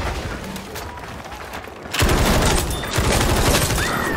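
Rapid gunfire from a firefight in the video game Battlefield 2042, loud dense bursts that surge in from about two seconds and keep rattling to the end over a noisy battlefield background.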